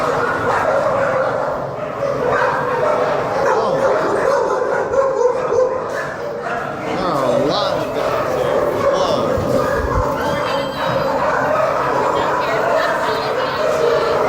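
Dogs at an animal shelter bark, yip and whimper continuously throughout, fairly close and loud, with people talking over the kennel noise.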